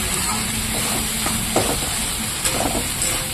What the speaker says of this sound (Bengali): তো এবার আমি ভালো করে কষিয়ে নেব।